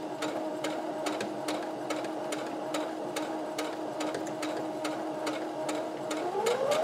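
A domestic sewing machine runs steadily while stitching the fabric of a tank top, a continuous mechanical whir with regular needle clicks throughout and a rising whine near the end, no talk.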